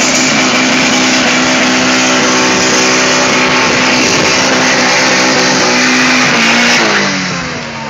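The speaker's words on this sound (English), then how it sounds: "Doing burnouts with street tires" Loud, sustained engine roar from a car doing burnouts on street tires at Luskville, revving hard and holding high throughout before easing off slightly near the end.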